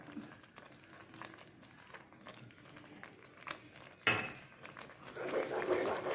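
Ghee being added to almond (badam) halwa as it is stirred: quiet scraping and light utensil clinks, then a sudden louder stroke followed by a soft, rising hiss that stays until the end.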